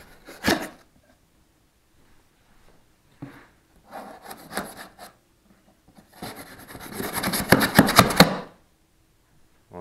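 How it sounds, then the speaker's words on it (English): A kitchen knife slices open a shipping package holding an AGV Sport Bullet one-piece race suit, with scattered scraping strokes and then a dense burst of rapid sawing cuts through cardboard and tape, close and fairly loud. "Let me just open this thing up. Right, kitchen knife."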